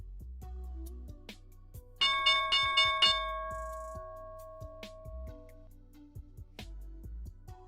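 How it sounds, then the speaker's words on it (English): The stock market opening bell rings in a rapid series of bright metallic strikes for about a second, then its tone decays slowly amid background ticks and faint room noise. "Here's the opening bell."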